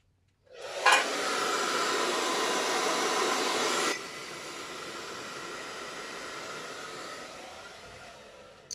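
A hair dryer blows steadily on a foam craft, starting with a bump and holding a loud, even airy roar for about three seconds before dropping to a lower, fainter setting that keeps running to the end, with no talking.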